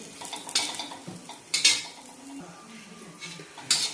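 A spoon scrapes and clinks against a pan while ground green chilli masala is stirred and sautéed for mutton curry, with a few sharp metallic knocks over a faint sizzle.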